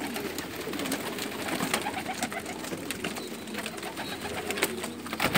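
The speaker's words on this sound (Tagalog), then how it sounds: "Mas malaki itong mga kalapati dito kaysa atin." Pigeons coo steadily in a room at Umluj, Saudi Arabia, larger birds than the usual local kind, their soft throaty calls overlapping in a continuous murmur with scattered fluttering and shuffling nearby.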